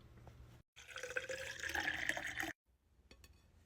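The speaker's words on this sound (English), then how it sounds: "next I'm going to add my Arrowhead spring water into my BlendJet over here, my portable blender" Spring water pours into a small portable blender jar for about two seconds, a close splashing trickle that stops abruptly, followed by faint drips.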